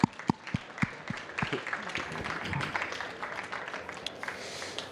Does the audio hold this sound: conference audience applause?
yes